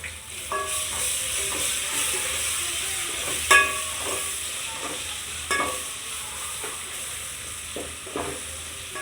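Ginger tossed into fried onions in a pan for mandi biryani, giving a continuous hissing sizzle under occasional clinks and scrapes of a stirring spoon, close and steady with no one talking.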